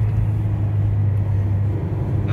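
Mazda MX5 RF sports car cruising, heard from inside the cabin as a steady low engine and road hum, constant and moderately loud, with no talk.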